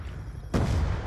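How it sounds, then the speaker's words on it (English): A sudden booming explosion from a lightning strike killstreak in the video game Black Ops 2, cutting in after a quiet stretch and rumbling on to the end, with no talk. "I got one person with the lightning strike"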